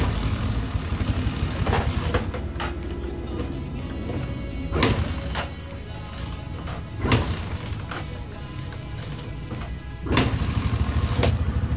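A carbureted motorcycle engine rumbles steadily up close during carburetor adjustment, with a few sharp knocks and clatters breaking through the low drone.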